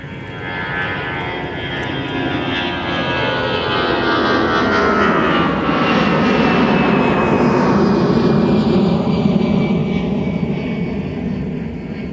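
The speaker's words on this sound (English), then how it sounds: "a Delta departure 2971, a flight to Dallas that is now on the roll." A Delta jet airliner on its takeoff roll at Minneapolis–St. Paul airport, a loud, sustained engine roar that builds and sweeps steadily across the whole stretch, with no talk over it.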